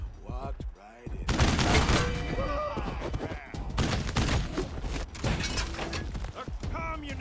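Ambush-shot gunfire in the video game Wasteland 3: a dense, loud burst of shots and shattering impacts, with a brief voice early on and further clattering hits layered over background game sound.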